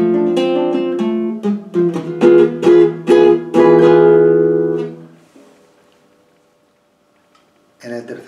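Rumba guitar strumming played with four fingers, a quick run of rhythmic chords ringing out for about five seconds and then decaying into near silence before a brief final strum.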